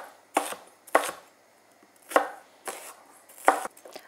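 A knife chops on a cutting board in five sharp, separate strokes with short pauses between them, close and clear.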